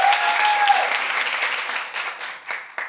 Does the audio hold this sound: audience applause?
yes